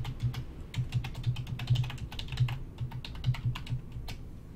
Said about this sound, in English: Just typing in my password there